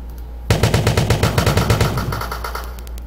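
Assault rifle fire in a Unity game demo: a sustained automatic burst of rapid, evenly spaced loud shots lasting about two seconds, then tapering off.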